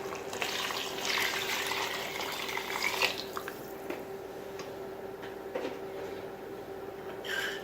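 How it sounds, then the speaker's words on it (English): Four cups of water are poured into a soup pot, giving a splashing, trickling pour that is strongest at the start. It tapers into lighter drips over a steady background hum. "So I have 4 cups of water."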